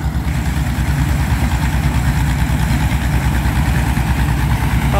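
A rice combine harvester's engine runs at a steady, loud idle-like drone with a throbbing low rumble, continuous and close throughout with no talk.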